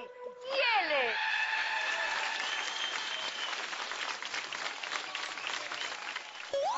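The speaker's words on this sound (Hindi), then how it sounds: "देखो ताली बजाता है" Applause from an audience bursts out loudly and holds steady, mixed with bright whooshing, sweeping effects and voices on a Hindi TV drama set.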